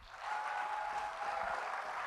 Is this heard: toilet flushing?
no